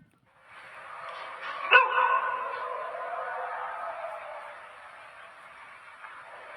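Dogs barking in a steady, continuous stretch of yelping and barks, one louder burst near the start, then settling into a sustained chorus that fades slightly toward the end.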